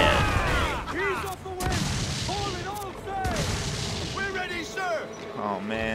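Ship cannons in Assassin's Creed IV: Black Flag boom repeatedly in a naval battle, heavy blasts mixed with shouting crew voices and people talking over the chaos.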